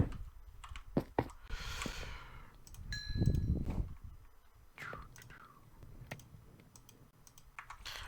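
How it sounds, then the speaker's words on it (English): Scattered keyboard taps and mouse clicks sound close by, mixed with soft whispery noise, a brief rustle and a faint ding. "It's pretty loud, the mouse and the keyboard."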